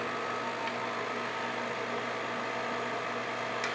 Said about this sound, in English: we're going to turn the mixer back on